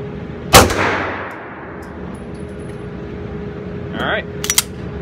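A Springfield Armory Range Officer 9mm 1911 pistol fires one loud, sharp shot close by, the report ringing out and decaying over a second, followed by a few small metallic clicks and clatters.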